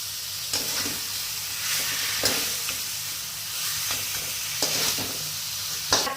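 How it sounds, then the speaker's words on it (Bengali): Prawns sizzle steadily in hot oil with bay leaves, a continuous close frying hiss broken by a few sharp stirring scrapes at irregular intervals. "বেশি ভাজবো না, তাহলে চিংড়ি মাছ শক্ত হয়ে যাবে।"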